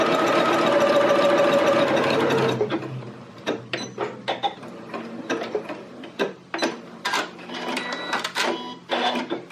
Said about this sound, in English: I'm going to stitch from the fold down to the edge of the fabric with a 1/2 inch